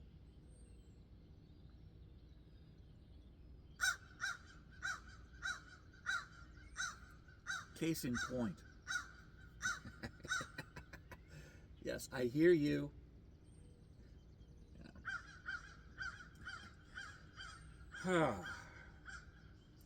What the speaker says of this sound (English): Ravens.